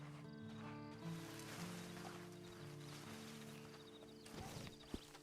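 Hooves clip-clop at a slow walk in Red Dead Online beneath a steady background hum, faint and even, with a few louder knocks near the end.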